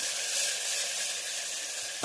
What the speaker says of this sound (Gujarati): ખીચડીનો વઘાર કરું છું હવે।